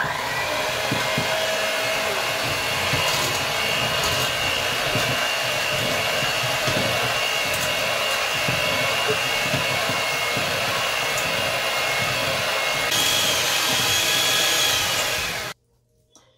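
An electric hand mixer beats sugar with condensed milk for a cake, a loud continuous motor whir with grinding and rattling in the bowl that runs steadily before cutting off near the end.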